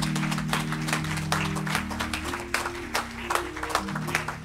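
A congregation claps hands together, a dense patter of many hands, while a sustained organ-like tone plays beneath.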